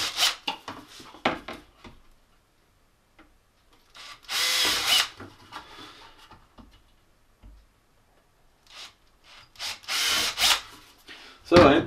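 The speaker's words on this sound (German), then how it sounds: "Und dann wird das Ganze miteinander verschraubt" A power drill driving screws into a wooden mulching insert for an Einhell GE-CM 33 Li mower: several loud whirring bursts with pauses between, close by, plus some handling clatter and ticking.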